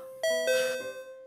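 A doorbell-style ding-dong chime sounds alone on a radio show: two clear ringing tones, the second lower, that fade out quickly.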